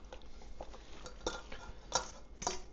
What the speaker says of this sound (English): Throw your egg noodles in, get it nice and folded in.